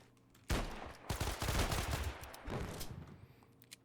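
Loud, dense bursts of gunfire in the video game ShatterRush crackle and pop in rapid volleys, with brief pauses between them and no talking.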